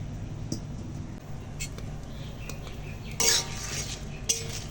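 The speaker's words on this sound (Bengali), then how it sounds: "এখন কড়া বসিয়ে দিলাম" A wok (kadai) is set down on a kitchen stove, with a brief metallic clatter and clink standing out over a low background hum.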